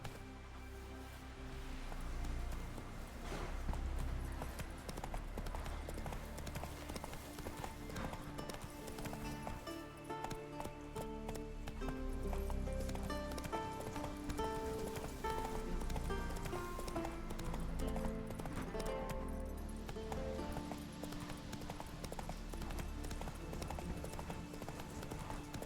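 Hooves of the horse Roach clip-clop at a gallop in The Witcher 3, steady and close, over a continuous bed of game music, with a whinny breaking through.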